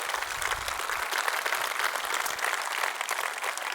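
Audience applause at the 20th edition of the Devoxx Belgium developer conference, a steady dense wash of many hands clapping for the AV team, moderately loud and continuous for a few seconds with no talking over it.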